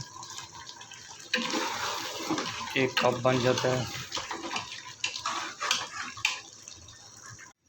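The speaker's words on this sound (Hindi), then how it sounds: "तो दोस्तों, हमने इसमें पानी डाल दिया है।" Water pours steadily into a cooking pot of beef paye (beef trotters), a loud continuous gushing splash that starts after a quiet moment and runs on, with someone talking over it.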